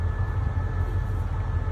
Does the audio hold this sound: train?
yes